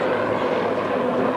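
A Grumman F7F Tigercat, a twin radial-engine fighter, flies past at an air show with a steady, loud, dense engine drone that holds evenly throughout.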